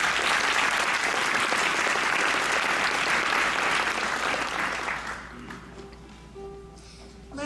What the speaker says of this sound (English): Let's have a big round of applause for these 4 outstanding young women.